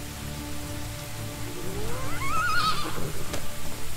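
A horse neighs in the video game Medieval Dynasty, a rising then warbling whinny in the middle distance that fades out, heard over steady rain pattering and a low background hum.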